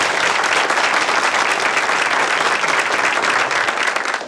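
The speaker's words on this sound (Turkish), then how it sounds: "Bir alkış alalım." An audience in a talk-show studio applauds steadily, a dense, loud wash of many hands clapping at once that holds evenly for the whole stretch with no voices above it.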